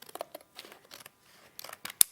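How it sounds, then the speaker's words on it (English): Scissors snip through paper in a quick run of crisp cuts, close and fairly quiet, with a sharp final snip and no talking. "I'm gonna just wing it with some scissors today"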